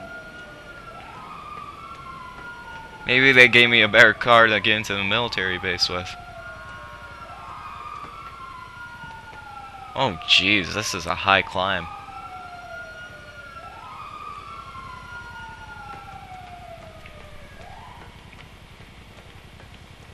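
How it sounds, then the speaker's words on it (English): Police car sirens in GTA Online wail with a steady rising and falling sweep, fairly distant, under two bursts of loud game noise while someone talks. "Then why do I still hear cop sirens?"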